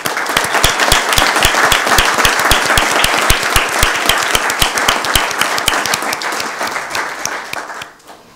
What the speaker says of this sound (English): Please honour them with your applause.